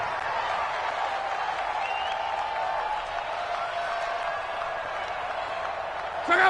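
Stadium crowd in an American football video game on PS4, a steady distant roar and murmur of spectators sustained throughout, with a brief louder swell at the end.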